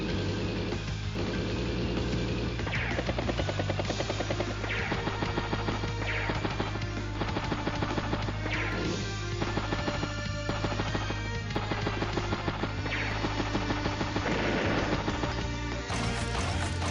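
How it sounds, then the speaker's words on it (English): Advance Wars: Days of Ruin battle in which a missile strikes a bomber, heard as dense, loud game music and effects with rhythmic thumping hits and mechanical rattles running throughout, with no talking. "Missile does get a good strike there on that Max Vet bomber"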